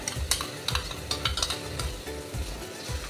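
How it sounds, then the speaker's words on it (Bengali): Spices fry in a pan for a pineapple and pointed gourd dish, a continuous sizzle broken by repeated scraping strokes of a spoon stirring against the metal. "এটাও একটু ভালো করে ভেজে নেব। মশলাটা ভাজা হয়ে গেছে।"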